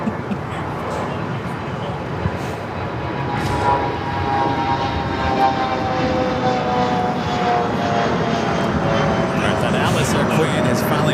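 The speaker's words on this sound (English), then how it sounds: "That was the Challenger 850" A Bombardier Challenger 850 jet at LAX roars steadily at a loud level, a broad sustained engine rush with a faint whine running through it, while people talk underneath.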